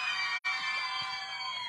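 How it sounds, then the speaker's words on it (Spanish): A contest crowd at Costa Azul in Chinandega screams and cheers for a contestant, a loud, steady wash of voices broken by a brief silent gap near the start. "Aplauso para la chica de Chori vestido negro."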